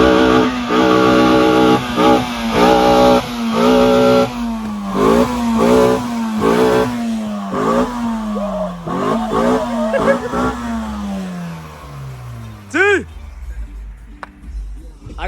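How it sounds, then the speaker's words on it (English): A Nissan SR20DE car does a burnout, its engine revving hard in repeated rising bursts before settling to a falling drone, then a sharp squeal near the end, with excited voices shouting over it. "Burnout is amazing."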